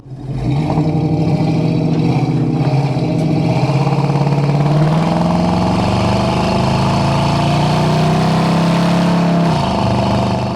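A 1968 Chevrolet C10 step side pickup with a swapped LS 5.3 V8 runs steadily on a drive, a loud, close engine drone with gradual pitch shifts as it pulls along, without talk.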